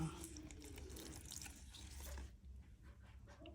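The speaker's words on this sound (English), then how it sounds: "let me just pour water here" Water poured over a plant, a splashing, trickling flow that runs for a couple of seconds and then fades to quieter dripping, with faint background noise.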